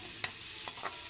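Shrimp sautéing in a pan for a drunken shrimp dish gives a steady, bright hiss, broken by a few soft scrapes of stirring.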